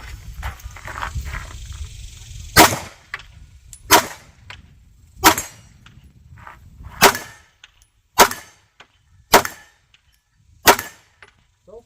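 Shots from a Stoeger STR-9 pistol fired at targets, seven sharp loud cracks spaced roughly one to two seconds apart, with rustling and a little handling noise between them.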